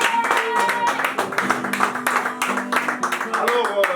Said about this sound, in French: applaudissez d'abord pour lui